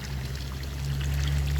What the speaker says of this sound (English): I want to make sure this tree gets a bunch of water.